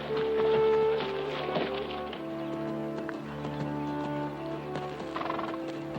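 Horse clip-clopping and whinnying in a 1979 period drama, a neigh followed by irregular hoof taps over a soft musical score, moderately close with no speech.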